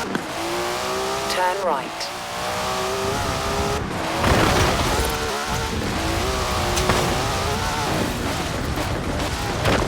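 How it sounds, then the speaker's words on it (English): Car drifting through turns in Forza Horizon 4, with a steady, loud engine drone, shifting revs and tire squeal running throughout, a voice talking over it and navigation prompts. "Forget all my explanations of drifting. Just watch this."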